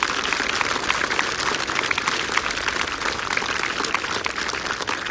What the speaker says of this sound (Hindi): एक बार जोरदार तालियां करिए सिटी लॉ कॉलेज के लिए।